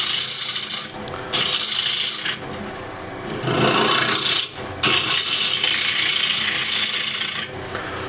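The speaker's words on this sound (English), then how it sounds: "And I'll just use a ball gouge" Ball gouge scooping out a wooden tray on a lathe: loud, steady scraping and shaving of spinning wood in close bursts of a second or two, separated by brief pauses as the tool lifts away.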